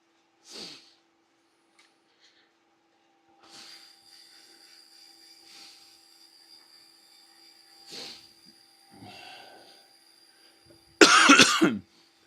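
A person coughs in a few scattered bursts, quiet at first and then one loud, harsh cough near the end, with long near-silent gaps between.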